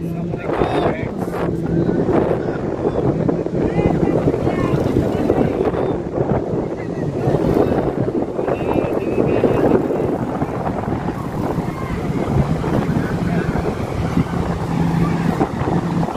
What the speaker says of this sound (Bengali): সেই রকম বাতাস